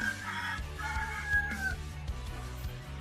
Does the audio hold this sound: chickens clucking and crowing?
yes